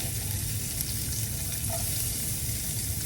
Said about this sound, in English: you're gonna take the onion that you have left and you're gonna add about 1/2 of it to the pan